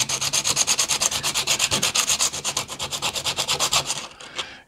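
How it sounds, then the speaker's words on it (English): Sandpaper rubs back and forth on the wooden hull of a Bluenose model ship in a steady, quick rhythm of about eight strokes a second, close and clear, with no one speaking. "Sanding all this off."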